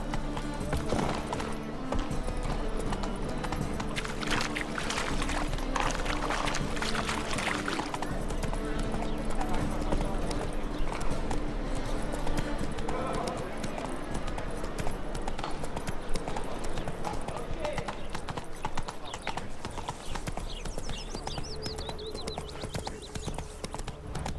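Roach, the horse in The Witcher 3, gallops with steady rapid hoofbeats under continuous game music and ambience, loud and close throughout.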